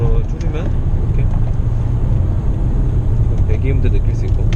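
Exhaust note of a Nissan Altima 3.5 SL V6 with CVT while downshifting for engine braking, a steady low rumble close to the car with a faint voice briefly over it.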